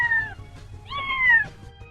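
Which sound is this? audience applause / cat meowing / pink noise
cat meowing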